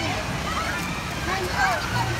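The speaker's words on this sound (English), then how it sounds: "Enjoying the lazy river." Water sloshing and splashing along a shallow water park lazy river, a steady wash close by, with children's voices and talk over it.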